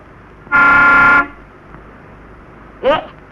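A car horn honks in a 1950s residential courtyard, one sustained blare of about three quarters of a second, loud and near, followed by a short second toot after a pause.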